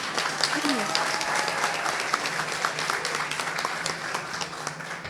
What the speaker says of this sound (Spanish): Un aplauso por favor para Angélica Alciver.